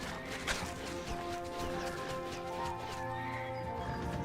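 Horse neighs and clopping hooves from the video game Titan Quest, heard amid a dense game soundscape with steady background music, an initial whinny followed by continuous hoof and rustling sounds.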